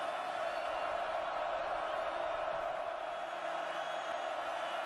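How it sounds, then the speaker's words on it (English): Football crowd at Autzen Stadium during a Stanford at Oregon game, a steady, fairly distant roar of thousands of fans cheering and urging on the Ducks, continuous and unbroken throughout. "Listen to this Autzen crowd. They're trying to lift up their Ducks."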